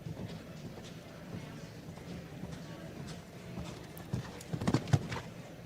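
Horse hooves clip-clop on the arena footing during a five-star FEI show jumping team competition, a steady patter under crowd noise and commentary, with a few sharper hoof strikes near the end.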